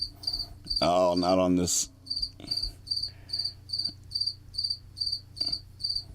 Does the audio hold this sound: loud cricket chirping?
yes